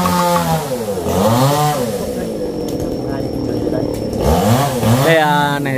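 A chainsaw cuts down a king palm tree near a house, its engine snarling and revving in surges, close and loud, while people talk over it.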